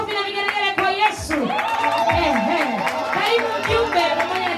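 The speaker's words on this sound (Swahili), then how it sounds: "Makofi na vigelegele kwa Yesu." At a church anniversary service, a crowd claps and ululates to welcome a government guest. A voice carries over the steady clapping, and high trilling calls rise and fall throughout.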